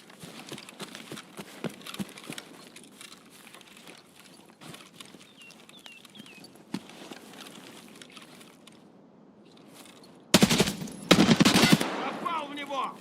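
Burst of automatic gunfire in Escape from Tarkov on the Customs map, a loud rapid volley near the end after quieter scattered shots and game ambience, with a weapon jamming almost immediately.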